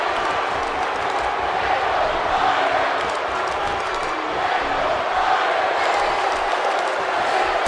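Crowd noise from a wrestling arena in the WWE 2K18 video game during a match featuring Neville, a steady, loud roar of cheering fans that sustains throughout.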